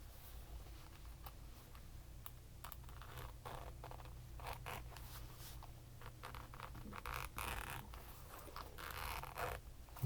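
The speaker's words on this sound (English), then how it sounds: "Nice little zipper." A small zipper on an earbud carrying case is pulled slowly in several short, raspy bursts, close and quiet, with faint handling noises between.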